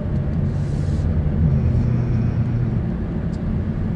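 Chevrolet Malibu 1.5 Turbo pulling hard after a downshift, a steady low engine drone and road rumble heard from inside the cabin, continuous and fairly loud throughout.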